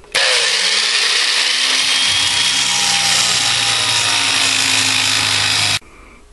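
A power tool cuts across an AR-15 A2 upper receiver, a loud continuous high-pitched grinding whine that starts abruptly, holds steady for about five and a half seconds, then cuts off.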